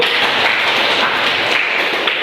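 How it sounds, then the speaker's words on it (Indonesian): Classroom applause for student discussion groups in an Indonesian Islamic junior high school, a steady, close wash of many hands clapping together, loud and continuous with no talk over it. "Tepuk tangan untuk semua kelompok dulu"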